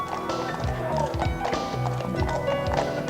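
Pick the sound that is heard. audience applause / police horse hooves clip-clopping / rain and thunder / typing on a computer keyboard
police horse hooves clip-clopping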